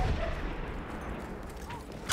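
Battlefield 1 gunfire: distant booming shots sound under a dense wash of battlefield noise, with a sharper, louder crack right at the end.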